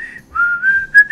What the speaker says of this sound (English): The mailman walks away with a bag over his shoulder, whistling over a cheerful tune.